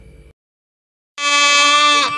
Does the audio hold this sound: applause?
no